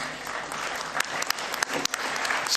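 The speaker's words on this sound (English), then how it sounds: "Can we clap hands for Madame Kanizar?" Audience applause at the CAF general assembly, a steady dense patter of many hands clapping throughout, fairly close and even in loudness with a few sharper individual claps standing out.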